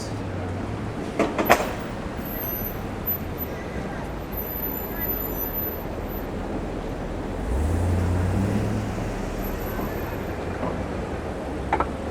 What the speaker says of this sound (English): We've got the #1 subway just beneath our feet